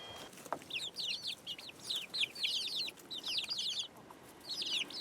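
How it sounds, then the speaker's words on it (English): Baby white chickens cheep and cluck in repeated high bursts, a busy flock chattering close by over a low outdoor background, with no talk. "I've sure got a lot of baby white chickens"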